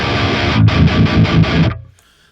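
Baritone guitar with the mids heavily scooped, played through an amp set to gain 2, strums a short run of about five distorted chords in a steady rhythm, loud and close, before ringing out and cutting off.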